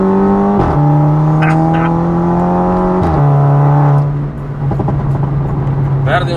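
Audi TT Mk2 2.0 TFSI with 260 hp, an HGP Motorsport exhaust and a remap, its engine droning loud and close as it accelerates through gear changes, with someone talking over it.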